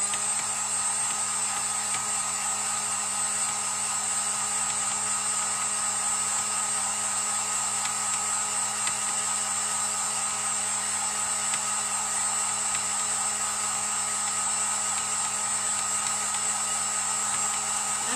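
A hair dryer blows continuously to dry acrylic paint on a clay pot during a lighthouse craft project, a close, steady whirring hiss with no break for the whole stretch.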